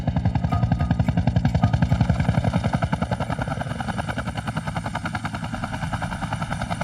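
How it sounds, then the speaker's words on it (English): A rescue helicopter flies close overhead, its rotor blades thudding in a loud, rapid, steady beat that dominates throughout with no voices. "The chopper now needs to land somewhere safe, so Gavin can be properly assessed."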